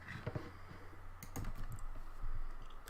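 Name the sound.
typing a chmod command on a computer keyboard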